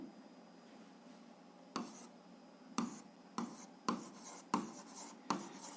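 A pen writing on paper during a 7th-grade algebra lesson, about seven short scratchy strokes in irregular succession after a quiet start, close and faint.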